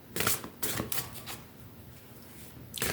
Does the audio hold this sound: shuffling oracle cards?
yes